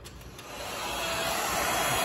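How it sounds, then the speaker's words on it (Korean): A hair dryer blows a steady, broad rushing whoosh with a faint high whine as it dries a silver sample in a chemistry lab. The sound is close and gradually grows a little louder, with no voices. "드라이어를 가지고 한번 말려 볼게요."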